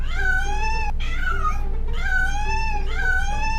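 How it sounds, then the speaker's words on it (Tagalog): Cat meowing repeatedly in long drawn-out cries, four loud close calls with short pauses between them, over a steady low hum. "Kanina pa siya meow ng meow."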